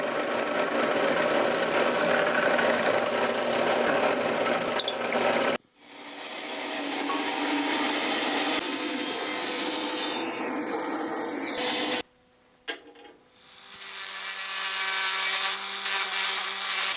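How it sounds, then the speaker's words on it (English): A power grinding tool hollowing out a wooden swimbait lure body, a steady close whine and rasp that cuts out twice, briefly pausing before restarting. "I'm just using whatever grinding tool I can fit in the hole that I need to make, grinding it back"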